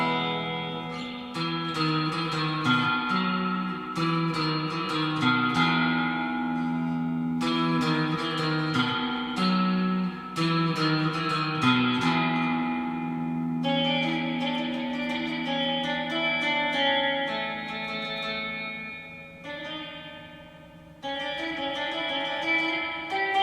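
Electric guitar phrases drenched in splashy spring reverb from a Surfybear Reverb Classic and a '64 Fender Reverb Unit, notes ringing and decaying in a wet, echoing wash, played continuously at steady volume with no voices.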